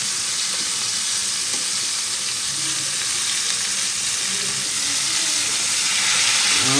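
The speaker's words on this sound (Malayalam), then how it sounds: "മീനിൻ്റെ ഒരു ഭാഗം നന്നായിട്ട് ഫ്രൈ ആയി, നന്നായിട്ടല്ല ഒരു ഷാലോ ഫ്രൈ ആയി." River fish shallow frying in a pan, giving a steady, dense sizzle and hiss of hot oil that fills the whole stretch at a constant close level with no talking.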